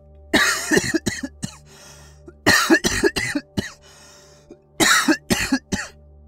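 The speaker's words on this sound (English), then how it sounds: "How long have you had that cough?" Harsh, hacking coughs come in three separate fits, each a rapid cluster of loud bursts with quiet pauses between.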